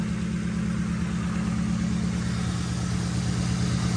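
A police car's engine idles steadily and close by, running on the fuel left in its lines because of a hole in the gas tank. It is a continuous low rumble with a faint regular pulse and no talk over it.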